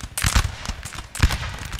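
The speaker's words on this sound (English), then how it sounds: "let's see if we can get a nice little volley off here with this artillery" In the video game Napoleon Total War, an artillery battery fires a volley during a multiplayer battle: a few sharp booming blasts in quick succession, then another burst about a second later.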